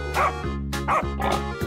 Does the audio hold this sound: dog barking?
yes